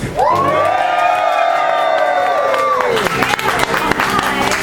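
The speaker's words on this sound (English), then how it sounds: "you'll want to give them a big cheer" A theatre audience at a saloon melodrama cheers and whoops together in a loud, sustained burst of voices, tailing off into scattered clapping and shouts.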